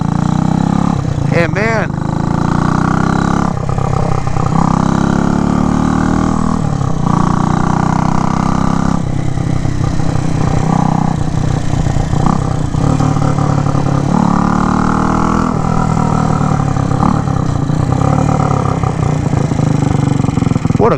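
A rebuilt 1967 Harley-Davidson H Sprint 250 motorcycle engine runs loud and close, a steady mid-range drone with revs rising and falling while someone talks over it.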